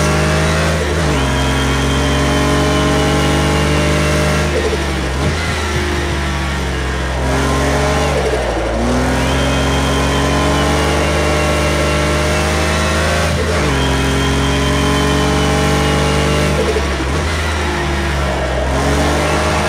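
A Porsche 959 engine in the racing game Project Cars 2 revs hard and repeatedly at Laguna Seca, loud and continuous, rising through the gears with sharp drops at each shift and no talk over it.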